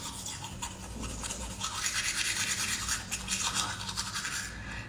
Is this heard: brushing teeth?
yes